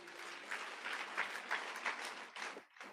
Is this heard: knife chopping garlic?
no